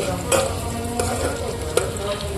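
Potatoes sizzling in hot oil in a pan for khichuri, a steady close frying hiss broken by a few sharp clinks as they are stirred.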